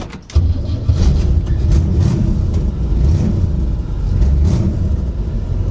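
Cheap old Chevy Nova being cold-started and pulled away on a test drive: a loud, close engine rumble that holds steady throughout, with rising revs as it gets going and no talking.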